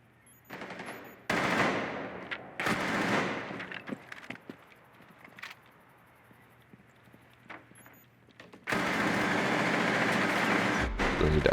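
SMG-11 gunfire in a video game: loud, rapid automatic bursts and scattered single shots, separated by quieter stretches of game ambience and ending in a long sustained volley.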